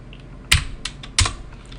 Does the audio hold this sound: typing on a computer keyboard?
yes